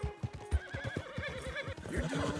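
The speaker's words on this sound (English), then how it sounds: "I came out riding on my horse" Horse in Red Dead Redemption 2 whinnying over rhythmic hoof clip-clops, close and fairly quiet, with the neigh rising and wavering above the steady beat of hooves.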